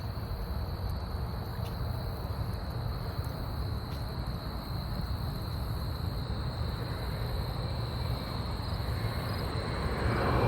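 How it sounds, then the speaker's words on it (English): An Air Canada Express airliner descends to land over a creek trail, a steady, continuous engine roar that stays loud throughout and is heard alone, with no talk. "here comes another airplane coming in for a landing"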